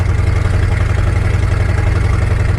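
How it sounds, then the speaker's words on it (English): A Chevrolet C10 pickup truck's loud, deep rumbling exhaust idles steadily and close by on a dirt road, a continuous low throb with no voices. "I like loud exhaust, but I don't like loud exhaust when it's right in my ear"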